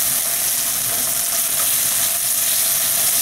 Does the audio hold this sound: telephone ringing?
no